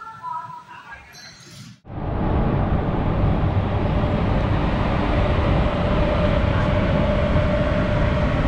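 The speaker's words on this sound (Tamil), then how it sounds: "வண்டி பார்த்தீங்கன்னா சரியா 3 நிமிஷம் டிலேவோட நம்ம கரெக்டாக விழுப்புரம் ஜங்ஷன் வண்டி எடுத்துக்கலாம்" Jan Shatabdi Express train pulling out of Villupuram Junction, a sudden loud onset after a quiet moment turning into a steady, close, broadband rumble of rolling wheels and carriages that holds for several seconds.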